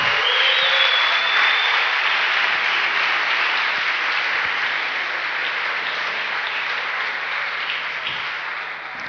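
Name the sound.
audience applause at closing ceremony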